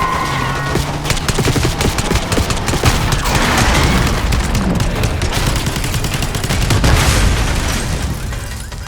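Dense gunfire in a Black Ops 6 cutscene street shootout, with continuous rapid bursts and heavy booming shots layered over one another, loud and close for the whole stretch.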